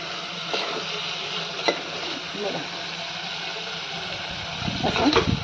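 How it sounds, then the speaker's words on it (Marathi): Chicken pieces sizzle and scrape as they are stirred into a spicy masala in a hot pan, with soft frying crackle throughout and a louder stir near the end. "ते सगळं मसाल्यामध्ये व्यवस्थित मिक्स करून घ्यायचं"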